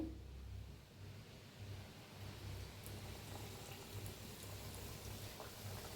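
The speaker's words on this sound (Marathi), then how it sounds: "कशा मस्त तळा लागलेल्या आहेत चकली आपल्या" Spirals of chakli dough fry in hot oil, making a faint, steady bubbling sizzle with occasional soft pops and no talk.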